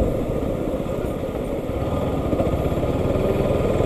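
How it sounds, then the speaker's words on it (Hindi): Bajaj Pulsar NS 200 motorcycle on a ride near Jaipur, its engine a steady, loud low drone that runs unbroken from start to finish with no voices. "बाइक चल रही है अपनी बिल्कुल मक्खन"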